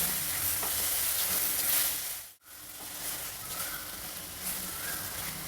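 Betel leaf chitranna paste (gojju) fries in a pan, a steady close sizzle with stirring scrapes, briefly dropping out for a moment before the frying hiss resumes.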